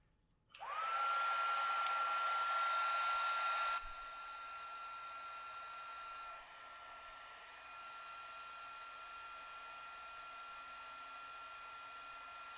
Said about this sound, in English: I'm going to put the heat gun on really quick.